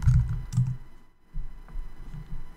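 Typing on a computer keyboard, with a quick run of close clicking keystrokes, a brief pause, then more scattered key taps.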